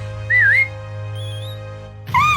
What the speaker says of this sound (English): Oh, the dwarf blew a whistle.